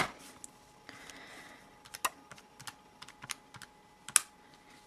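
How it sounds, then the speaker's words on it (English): Clicky taps of numbers being typed on a handheld calculator, a quick irregular run of small clicks with one or two sharper presses, close by and fairly quiet, with no talking. "if I type in my calculator"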